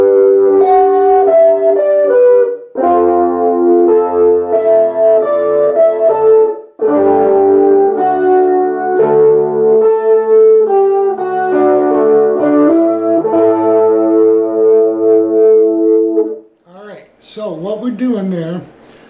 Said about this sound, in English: I'm going to play through the first measure on the clean setting with my neck